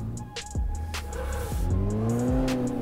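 A Renault Stepway sliding through a drift in City Car Driving, engine revving up and down in quick sweeps as tires squeal, loud and close, with no talking.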